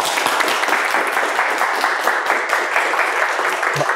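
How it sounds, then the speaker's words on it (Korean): An audience at a lecture event gives a speaker a dense, sustained round of applause, with many hands clapping steadily and close by throughout. "여러분, 이 대표님 큰 박수로 환영해 주십시오."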